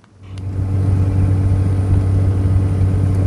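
A Cummins 6BT 12-valve diesel swapped into a Suburban pulls off on a test drive, its sound swelling quickly into a loud, steady, low droning hum up close.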